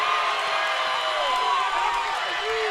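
Orange Park Raiders basketball home crowd cheering in a gym after a made three-pointer, a steady dense roar of voices with whoops and some clapping throughout.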